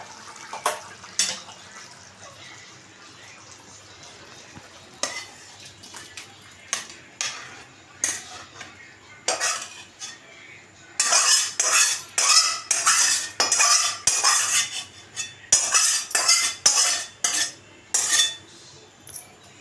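Metal utensils clink and scrape against a pot as a cooked ridge gourd, potato and poppy seed dish comes off the stove, with sharp irregular clatter that grows busier and louder toward the end.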